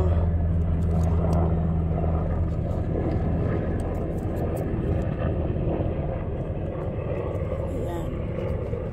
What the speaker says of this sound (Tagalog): may aeroplano pang dumadaan